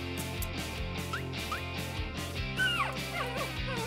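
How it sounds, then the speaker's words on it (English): A cartoon puppy whimpers and yips in short high-pitched squeals and rising whines, repeated several times over background music, close and clear. "Oh, someone is whimpering. It's a puppy stuck in the trash."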